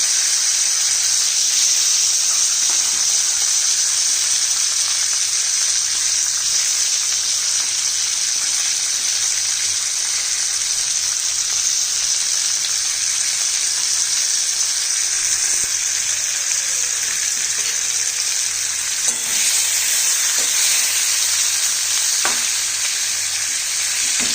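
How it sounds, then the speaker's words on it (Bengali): Mushrooms are fried and tossed in a pan with butter and cinnamon, producing a loud, unbroken sizzle with occasional stirring clinks and scrapes over a long stretch. "এবারে আমার এই মাশরুম কটা একটু ভেজে মানে আমি একটু টস করে নেব"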